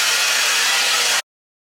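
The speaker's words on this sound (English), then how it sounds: "So first we're gonna blow dry it" A hair dryer blows steadily at close range while hair is being blow-dried, a loud continuous broadband whoosh that cuts off abruptly after about a second.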